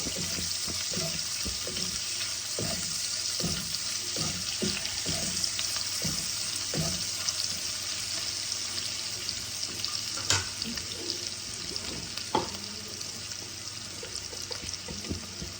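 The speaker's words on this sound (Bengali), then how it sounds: "পেঁয়াজ যে কুচি করে রেখেছি সেটা আমি ছেড়ে দিলাম। ভালো করে পেঁয়াজগুলোকে ভেজে নেব।" Chopped onions frying in a pan for a Bengali lau ghonto with fish head make a constant loud crackling hiss, close up, with a run of regular stirring knocks early on and a couple of sharper clacks later.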